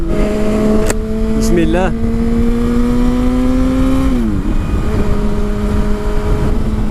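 A 2008 Yamaha FZ6 motorcycle engine with about 39,600 km revs up and down, its pitch sweeping upward then dropping back to a steady idle, loud and close, with someone speaking briefly at the start.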